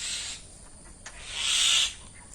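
A flightless baby bird gives raspy, hissing cries, two drawn-out calls with a short click between them, fairly close and alone.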